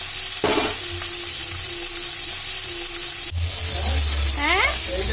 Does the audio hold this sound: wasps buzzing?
no